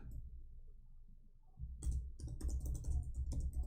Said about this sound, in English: I don't know why this typing is so slow.